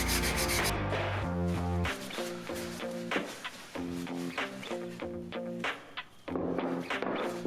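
Wax rubbed by hand onto cast Jesmonite pieces to seal them, a run of steady scrubbing strokes heard beneath prominent background music with no speech.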